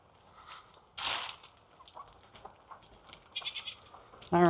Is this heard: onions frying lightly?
no